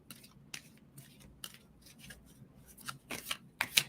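Tarot cards shuffled in short, crisp riffling bursts, quiet at first and growing louder and denser toward the end, with no voices over them.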